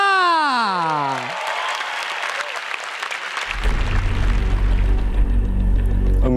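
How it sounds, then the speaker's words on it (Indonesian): A comedy roast audience bursts into loud, sustained applause and cheering after a short musical sting, the clapping swelling up and continuing to the end. "Beri tepuk tangan untuk Indra."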